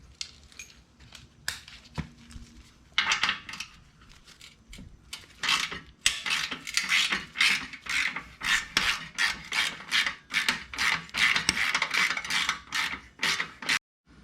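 Wrench work on the 14mm bolts of a Harley-Davidson Street Bob muffler, rapid rasping ratchet clicks in short repeated bursts, close and fairly loud, with no talking.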